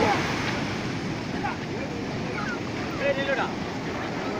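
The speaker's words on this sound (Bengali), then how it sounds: "আবার তো বড় ঢেউটা আসছে" Big ocean waves roll and break on Puri beach where fishing boats work the surf, a continuous broad roar with wind buffeting the microphone and faint voices in the distance.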